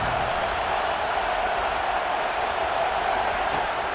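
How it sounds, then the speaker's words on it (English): Crowd roar in a college football video game: a steady, dense stadium wash of noise at constant loudness throughout, with no distinct cheers or claps standing out. "The roar of the crowd trying to fuel this defense to keep them pinned in their own end."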